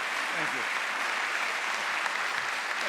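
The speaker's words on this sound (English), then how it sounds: "You guys can clap if you'd like for this one." Audience at a Virginia gubernatorial debate between Glenn Youngkin and Terry McAuliffe breaks into sustained applause, a dense wash of clapping that stays steady from start to finish, with faint voices mixed in.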